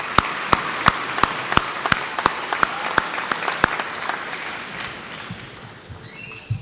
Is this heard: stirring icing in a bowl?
no